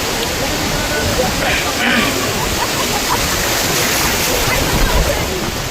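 Water waves wash in without a break, a loud broadband roar of surf close by that stays steady throughout and has no clear individual crashes.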